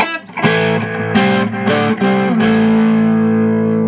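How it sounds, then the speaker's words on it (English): Electric guitar chords played through heavy overdrive, several strummed hits ringing out into a thick, sustained distorted tone with no talking. "hit the overdrive, which is another sound"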